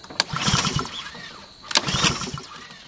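Briggs & Stratton Craftsman small engine fired on starting fluid with the choke open, giving two short bursts of sputtering, popping combustion about a second and a half apart, close and fairly loud, with no talk.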